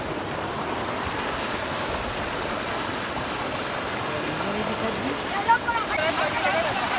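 Water rushes steadily from an overflowing pond during rain, a continuous broadband wash that stays close and even throughout, with a brief thump near the end.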